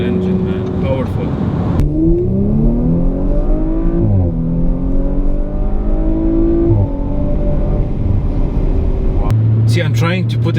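An Audi RS5 engine is heard from inside the car as it accelerates through gears, revs climbing then dropping at each shift, loud and steady, with someone talking over parts of it.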